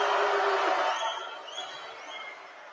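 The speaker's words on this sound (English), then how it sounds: "this Beasley crowd is about to get really loud here in a second" A crowd at Beasley Coliseum roars and cheers during a WSU vs Idaho men's basketball game, a broad swelling noise that fades after a second with scattered whoops and whistles following.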